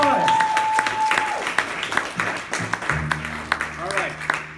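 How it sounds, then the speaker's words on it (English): Audience applause for a performer at a folk music café in New York City, moderate and fairly close, tapering to scattered claps while a sustained instrument tone and faint voices sit underneath. "another round of applause."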